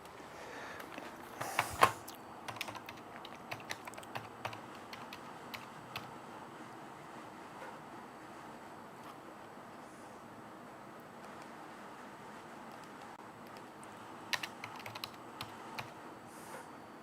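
Scattered key clicks from a computer keyboard, light and irregular with a few louder bursts near the start and toward the end, set against a steady low room hum in a workshop.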